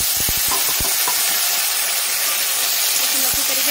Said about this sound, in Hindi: इसे फ्राई कर लिए हैं, इसमें हम आलू और टमाटर दोनों को ही डाल देंगे